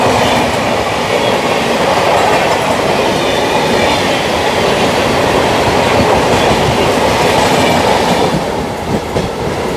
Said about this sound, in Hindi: बेंगलुरु से दानापुर जाने वाली एक्सप्रेस ट्रेन है।